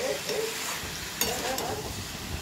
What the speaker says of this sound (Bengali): ভালো করে মশলার সাথে সবজিটা মিশিয়ে নিচ্ছি।